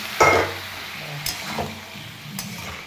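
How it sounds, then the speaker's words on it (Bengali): A spice paste stir-fried in a pan with a little water added, giving a sizzling hiss with a brief burst near the start and a few scraping stirring strokes, close and clear, with no talking. "এবারে এটাকে ভালো করে কষাবো, অল্প একটু জল দিয়ে এটাকে এখন কষিয়ে নেবো"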